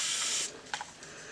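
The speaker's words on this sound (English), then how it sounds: "I'm going to go in and spray some more" A spray bottle misting water onto hair during a micro loc wash, one short hissing spray burst followed by a couple of faint clicks of the trigger, close and fairly quiet.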